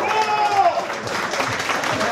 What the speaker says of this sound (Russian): Давайте похлопаем ребятам.